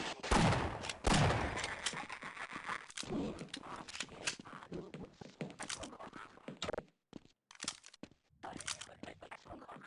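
Shotgun blasts in the first-person shooter Half-Life, several loud bursts spread across the stretch with gaps of quiet between them, mixed with other game noise while someone talks over the action.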